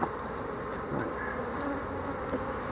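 Honey bees droning steadily from an open hive during a frame inspection, a continuous close buzzing hum with a few brief louder passes, no talking.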